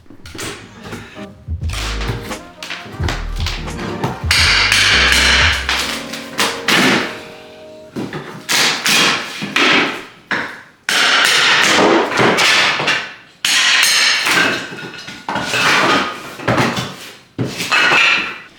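Repeated heavy hammer blows and thuds land on a hardwood kitchen floor in irregular bursts, with scraping and clattering as boards are pried loose during removal.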